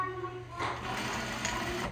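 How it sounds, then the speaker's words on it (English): Sewing machine stitching down the hem of an old garment being recycled into a grocery tote bag, a steady close whirring hum of needle strokes running throughout, with a voice talking over it. "So I'm just going to sew this down again."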